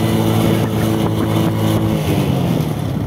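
A motorbike being ridden by a learner hums with a loud, continuous engine drone that rises and falls gently as it revs, close up, with wind noise and no clear speech.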